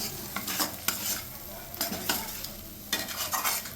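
A spice paste of chilli, turmeric and poppy seed sizzles softly on low heat while a spoon scrapes and stirs it around the pan in several distinct strokes.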